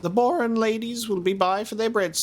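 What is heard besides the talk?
No everyday noise stands out behind the speech.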